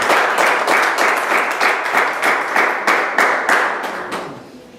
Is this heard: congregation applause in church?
yes